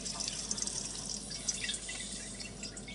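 Water dripping and trickling inside a RainSoft Q2 series water softener, a faint, steady patter of small drips over a low background hiss, heard up close with no one talking.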